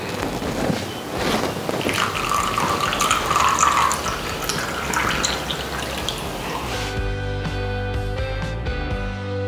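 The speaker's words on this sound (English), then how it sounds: "We now combine the ingredients with 1/2 cup of warm water." Warm water is poured into a thick chemical wood-burning paste mixture, a rushing, splashing pour for several seconds that gives way to a quieter tail.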